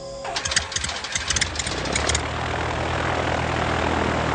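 A propeller airplane engine cranks with rapid sputtering pulses, then catches into a loud, steady roar close by.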